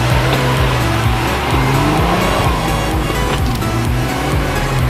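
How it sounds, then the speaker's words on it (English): A car tears along a gravel road at top speed, tires spraying and crunching loose stones under a loud, steady engine drone with rising and falling pitch. "Obviously these tires are kicking up a bunch of gravel"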